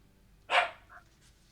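A puppy gives a single short bark, quiet and somewhat distant, followed by a fainter little yip.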